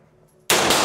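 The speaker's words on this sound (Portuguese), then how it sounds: "Olha o Coronado atirando pela primeira vez" A firearm goes off at a shooting range with one sudden, very loud nearby blast that breaks a quiet moment and stays harsh until the end.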